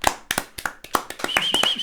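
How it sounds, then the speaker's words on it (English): A few podcast hosts clap briefly at close range, a short burst of irregular, sharp hand claps with small gaps between them in a quiet room. "We'll give him a round of applause."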